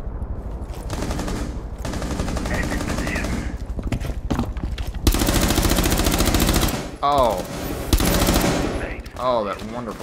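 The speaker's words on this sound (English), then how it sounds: "Oh, that wonderful shooting." Loud, rapid automatic gunfire rattles almost continuously in Rainbow Six Siege, with tonal game voice lines and effects cutting through near the end.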